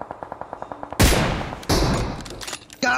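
Gunfire in the PUBG video game: a rapid string of light shots, then a loud heavy blast with a long decaying tail, more sharp reports, and a final burst overlapped by a high in-game tone, all close and loud.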